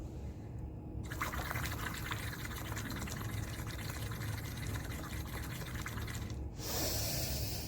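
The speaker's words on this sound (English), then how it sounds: "So you have to blow out completely by making bubbles." Bubbles blown through a straw into a glass of water during a breathing exercise, a steady gurgling hiss that keeps going for several seconds after a short pause, with breathy exhalation and no talk.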